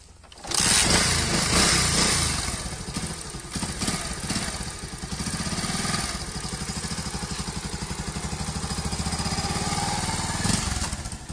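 A motorcycle engine starts up and runs loudly close by, revving and idling with a steady throbbing rumble as a young man sets off for school on the bike.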